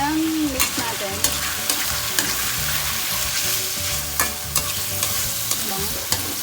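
Pork menudo being stirred in a frying pan: a steady sizzle with repeated scraping and clinking of the utensil against the pan, fairly close and continuous.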